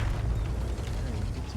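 A T-34-85M tank in a tank video game fires its cannon, a single deep, heavy boom with a low rumbling tail, close and loud, while someone talks.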